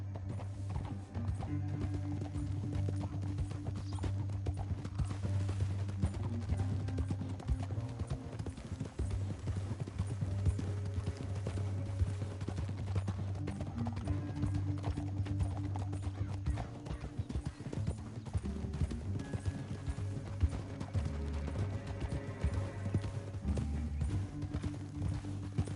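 Horse hooves clip-clop in Red Dead Redemption 2, a steady rhythmic trot running throughout under a low droning game score, with occasional neighing and no speech.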